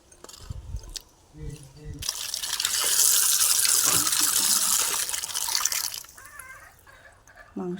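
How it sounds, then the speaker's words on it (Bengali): Chicken meat is rinsed under running water, a steady gush and splash that swells loud in the middle and then tapers to trickles, with a voice talking briefly before and after. "মাংসটা আমি ধুয়ে পরিষ্কার করে নেব।"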